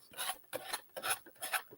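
Four rhythmic up-and-down rasping strokes of a sanding block against the edge of a decoupage craft piece, close and dry, with brief pauses between them.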